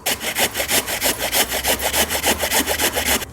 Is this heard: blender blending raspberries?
no